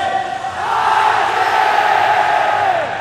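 A large crowd at a Dota 2 esports grand final roars and cheers loudly, a sustained swell of voices filling the whole stretch with no break.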